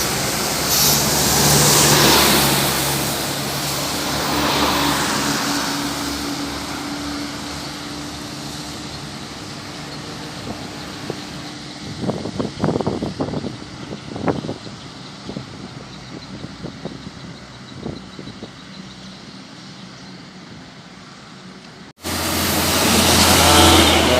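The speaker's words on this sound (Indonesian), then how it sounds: "Bus makro teman-teman, langsung melewati mobil" On an open road a bus drives along and passes a car, with steady engine drone, wind buffeting and tyre hiss, a cluster of sharper bursts in the middle, and a sudden loud surge near the end.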